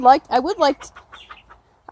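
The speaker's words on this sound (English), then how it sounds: "here's our other little rooster, this little guy" A rooster clucks and makes short, throaty calls up close, in a quick cluster of bursts followed by quieter chatter and a brief pause.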